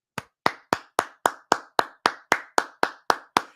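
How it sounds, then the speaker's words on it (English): Twelve crisp, evenly spaced hand claps ring out close and loud in a quick steady rhythm, each a sharp isolated smack with no talking. "It's a quick clap."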